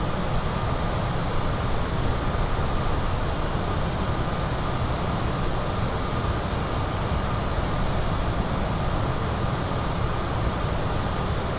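A steady, even roar of A320 jet engines in flight fills the scene in Microsoft Flight Simulator 2020. The broad cabin-like drone holds at a constant level throughout, with no talking.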